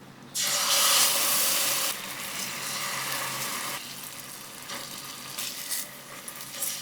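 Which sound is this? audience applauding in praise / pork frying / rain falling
pork frying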